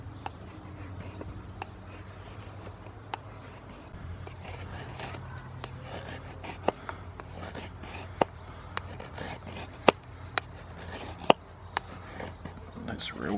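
A new knife shaves wood, giving a continuous low rasping scrape with scattered sharp clicks and snaps over a steady background, while a person talks at times.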